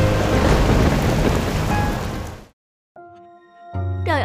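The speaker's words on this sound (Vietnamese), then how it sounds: "Trời ơi, sức mạnh của giông bão thật khủng khiếp." A thunderstorm at sea brings heavy, dense rain with low rumbling thunder for a couple of seconds. The storm cuts off abruptly into silence, then thin tonal sounds and a brighter ringing swell follow.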